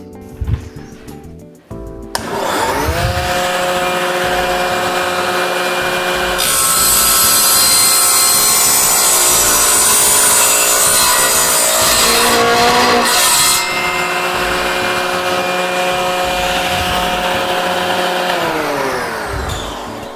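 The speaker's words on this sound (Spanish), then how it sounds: "Una ingletadora para piezas de gran tamaño." A combination miter saw for wood cutting through a large wood piece held in a clamp: after a brief start, the loud blade whine runs steadily through the cut, then winds down at the end, with no talk.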